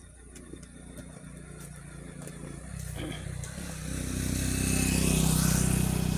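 A motorcycle engine on a roadside near a landslide area, idling and then building steadily louder as if revving or drawing closer, with faint talk mixed in early on.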